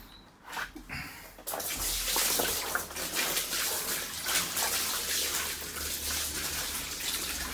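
Water from a hose pours steadily into a newly lined DIY garden pond, a constant splashing gush that begins after a quiet moment and continues loud and close, with no talk.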